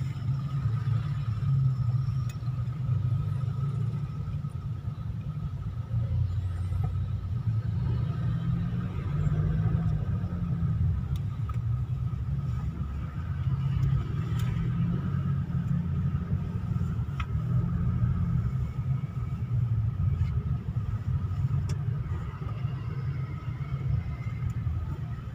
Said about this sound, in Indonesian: Macet karena ada lampu merah di depan.